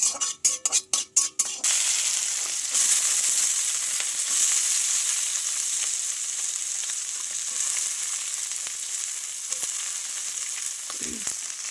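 Vegetables sizzle and fry in hot oil seasoned with bay leaf and panch phoron, following a few sharp clinks of utensils at the start, then a steady close hiss with no talking.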